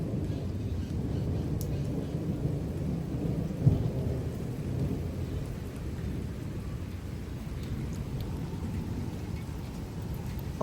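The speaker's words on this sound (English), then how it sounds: "Oh, that was a close lightning." Thunder from a close lightning strike rumbles low and heavy through a severe storm with wind gusts and rain, a sharp crack near the middle rising out of a constant roaring wash.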